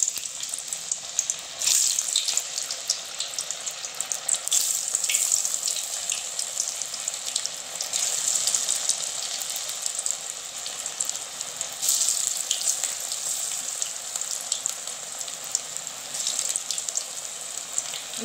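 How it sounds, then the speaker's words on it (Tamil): Bitter gourd slices sizzle in hot oil in a home kitchen while bitter gourd chips are made, giving a steady, bright crackling hiss throughout with no talk. "இப்போ வந்து நம்ம இந்த பாவக்காய் போட்டுக்கலாம்."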